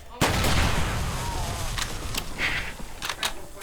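Gunfire in the video game 7 Days to Die: a loud opening blast followed by a run of sharp shots that fade to several scattered cracks.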